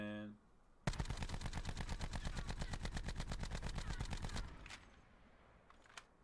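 A Rampart 17 rifle in Call of Duty: Black Ops 4 fires a long, evenly spaced burst of about thirty loud shots, then falls quiet with a few faint clicks afterward.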